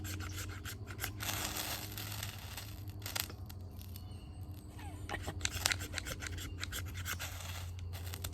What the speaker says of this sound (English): that's gonna definitely scrape this ferro rod.